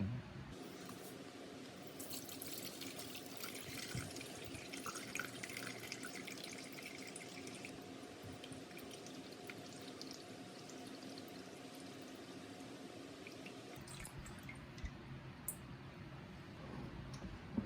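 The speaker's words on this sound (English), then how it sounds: "I want to strain out some of this liquid." Liquid strained from fermented habanero peppers pours and trickles steadily for a long stretch, splashing into a container, then the flow changes and thins out near the end.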